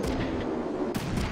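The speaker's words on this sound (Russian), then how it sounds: "Отличный выстрел был." Gunfire in the Front Mission 3 video game: two heavy, booming shots about a second apart, each a sharp broadband blast with a rumbling tail, loud and close.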